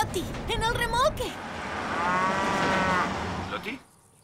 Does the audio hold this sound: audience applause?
no